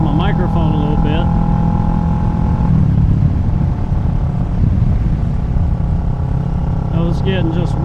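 A Kawasaki Ninja 650 fitted with a Delkevic exhaust rides along, its engine droning steadily with a muffled, continuous tone and wind rush, while someone talks over it throughout.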